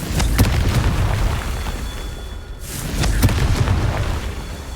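Confringo spell blasts in Hogwarts Legacy, loud booming explosions that hit twice, each a sharp crack followed by a dense rolling roar, close and forceful with a brief dip between them.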